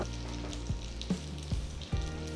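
Bhatura dough puffing in hot oil gives a steady, close frying sizzle with a few soft bubbling pops scattered through it and no voices.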